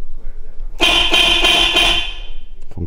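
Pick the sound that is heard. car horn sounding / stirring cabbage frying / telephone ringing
car horn sounding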